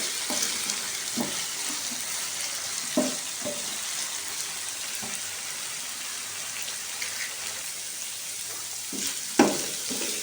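Potato and egg curry fries steadily in a pan as kasuri methi is mixed in, a continuous dense sizzle with several soft spoon knocks and scrapes throughout, one sharper clack near the end, no speech.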